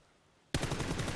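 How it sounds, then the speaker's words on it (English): Gunfire in the battle-royale video game PUBG during a competitive esports league match: after half a second of near silence, a loud burst of rapid automatic shots erupts and continues as a dense, close spray to the end. "What a shot from MBS. Just bangs him in the head"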